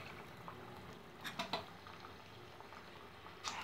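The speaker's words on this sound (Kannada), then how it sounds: "ಸೊ ಇವಾಗ ಎಣ್ಣೆ ಕಾದಿದೆ, ನಾನು ಒಂದೊಂದೇ ಚಿಕ್ಕ ಚಿಕ್ಕ ಬೋಂಡ ಬಿಡ್ತಾ ಹಾಕ್ತೀನಿ ಇದರಲ್ಲಿ" Small bondas fry in hot oil with a soft, steady bubbling sizzle. It stays quiet and close, with a few faint clinks of a utensil against the pan.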